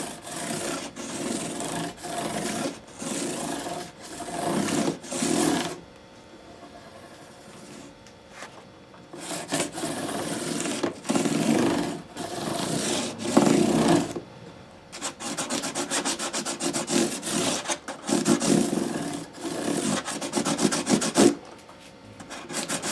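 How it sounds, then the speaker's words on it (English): Frets on a Martin D-28 guitar are smoothed with 600 grit sandpaper on a scrub block, giving bursts of quick scratchy back-and-forth strokes separated by short pauses, close and clear with no voices. "So the sandpaper flexes with the scrub block and kind of slurs across the end of those crowns."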